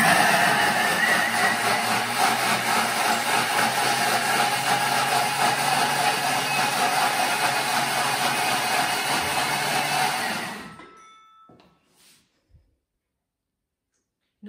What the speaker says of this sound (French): Et là, on va mixer 10 secondes, vitesse 10. C'est parti pour un petit peu de bruit.